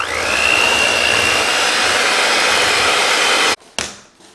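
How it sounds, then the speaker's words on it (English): An electric hand mixer beats keto cookie dough with a loud, steady whirring drone for several seconds, then cuts off abruptly, followed by a brief knock and a fading clatter. "we're going to mix this up a little bit more with the mixer and get that going good"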